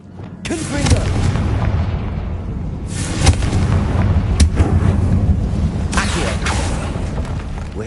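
A Confringo fire spell in the video game Hogwarts Legacy erupts in loud, close booming blasts, with several heavy bursts spaced a few seconds apart over a rumbling background.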